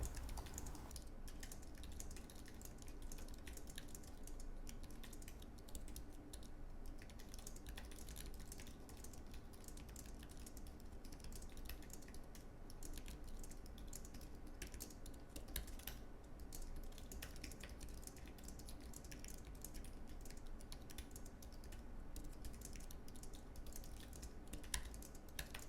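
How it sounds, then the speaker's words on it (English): Rapid continuous typing on an Apple wireless Magic Keyboard, light dense key clicks and taps at steady pace, quiet and close, with no talking. "Anyway, here are some typing tests."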